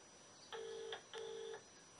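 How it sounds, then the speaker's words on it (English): A telephone call being dialed and ringing, two long steady ring tones with a short gap between them, faint and alone with no voices. "I'm just ringing Manahi now"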